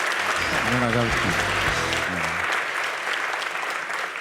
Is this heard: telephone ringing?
no